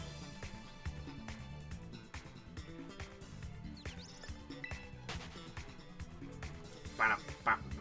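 Wild bird Pokémon in Pokemon Scarlet give short quacking, chirpy calls near the end, over a busy bed of game music and effects.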